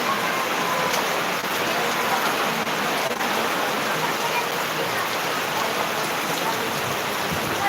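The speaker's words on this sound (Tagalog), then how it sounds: "Lakas ng ulan." Heavy rain pours steadily, a dense, even hiss of drops drumming on surfaces that stays loud and unbroken from start to end.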